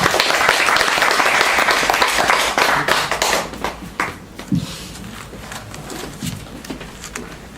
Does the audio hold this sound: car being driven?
no